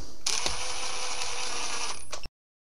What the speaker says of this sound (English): Take your impact gun, just slightly